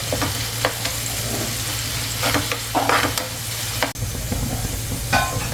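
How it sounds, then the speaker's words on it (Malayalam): Sliced onions frying in oil in a pan for a clam fry, a steady close sizzle broken by repeated spatula scrapes and knocks, fairly loud, with no talking. "ഇനി നന്നായിട്ടൊന്ന് ഫ്രൈ ആവട്ടെ"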